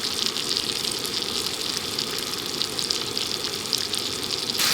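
Lake Michigan king salmon fillets fry skin-side down on a camp stove in a wooded parking lot, a steady close hiss of oil running unbroken throughout.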